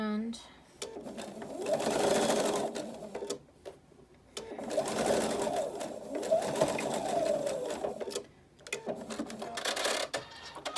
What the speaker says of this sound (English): So we sewed a straight line all the way across, okay? And our bill is secure.